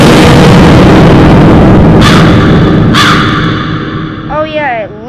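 Crows caw twice in a Roblox horror video game, each a loud, harsh call standing out over a dense, steady rumble of game ambience, followed by a short warbling tone as the noise fades.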